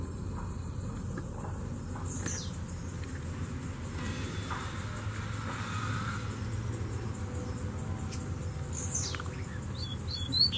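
Coleiro birds sing outdoors, including a male named Braddock calling, with a few sharp chirps and whistled phrases heard at a distance over steady insect and traffic noise.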